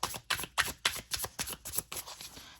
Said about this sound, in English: I feel like these are more built for side shuffling because of how thick they are